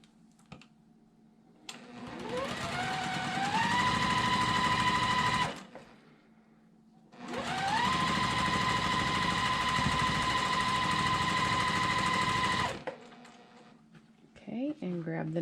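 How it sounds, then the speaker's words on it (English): Sewing machine joining quilt block pieces into sections, two long close bursts of rapid stitching that rise to speed and run steady, separated by a short pause, with quiet handling after. "I'm just going to sew them together into 2 sections"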